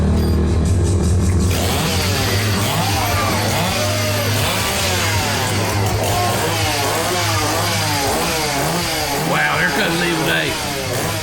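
A chainsaw at a Halloween hardcore wrestling event revs in repeated rising and falling bursts, loud and close, with crowd noise and commentary voices underneath.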